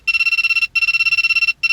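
A privacy pen detector alarm reacting to a nearby phone's transmission signal, sounding as loud, rapid high-pitched electronic beeping in two long bursts separated by a brief pause, close and alone.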